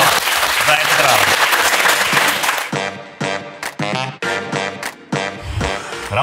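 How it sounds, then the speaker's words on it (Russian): Studio audience applause on a history quiz show, a loud dense burst of clapping for about two seconds that gives way to music with voices over it. "Вот вам просто аплодисменты от наших зрителей."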